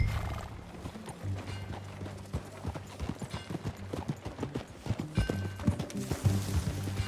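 Steady clip-clop of horse hooves with a horse neighing and whinnying in Red Dead Redemption 2, busy and layered, with faint background sounds and no talking.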